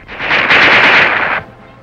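A submachine gun and Browning automatic rifle fire a rapid, loud burst lasting about a second, a dense continuous rattle with no voices.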